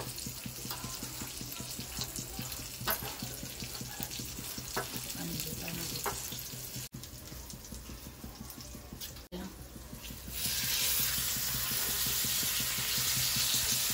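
Halwa (pomfret) fish fries in a pan over a low flame with a continuous close sizzle, interrupted by a few short handling bumps and stirring sounds before the sizzling grows louder and brighter near the end.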